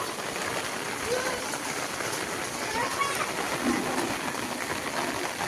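Light monsoon rain falls steadily outdoors in a continuous soft hiss of drops and splashes, while children's voices come and go faintly in the background.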